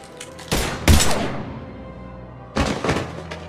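Gunfire in the video game Mass Effect 3: two loud, separate bursts of shots, the first starting sharply and dying away, the second arriving after a pause of about a second and a half.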